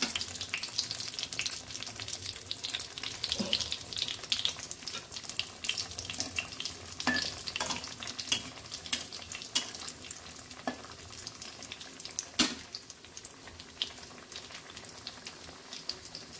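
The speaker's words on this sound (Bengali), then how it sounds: "দেখো এপিট ওপিট করে কিন্তু ভালো করে ভেজে নিয়েছি" Vetki fish fries in a pan with a continuous close sizzle, dotted with sharp crackles and pops at irregular intervals.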